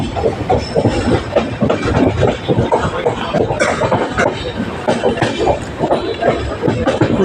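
Passenger train running from Delhi toward Varanasi, with a steady loud rumble and rhythmic clickety-clack of wagon wheels on rails, occasional squeal and hiss, and faint voices in the carriage throughout.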